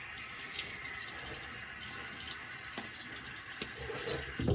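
A bathroom tap runs into a sink as water is used to dampen the face before shaving, a continuous hissing splash at moderate level with a few small clunks and spatters, no speech.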